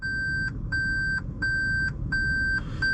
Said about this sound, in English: when I put it in reverse, which I'll do now, you get that initial beep there